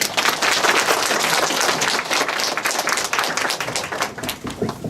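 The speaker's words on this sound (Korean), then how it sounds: "모든 팀 학생들의 다짐을 축하하는 큰 박수 부탁드립니다" An audience at a Korean student send-off ceremony bursts into loud, dense applause celebrating the teams' pledges, sustained clapping filling the hall for the whole stretch.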